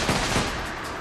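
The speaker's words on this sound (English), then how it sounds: "they just shot that guy" Rapid burst of gunshots fired by police at an armed suspect during a street confrontation in Los Angeles, loud and dense, sounding like a short volley of several shots in close succession.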